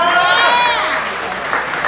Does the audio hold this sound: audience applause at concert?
yes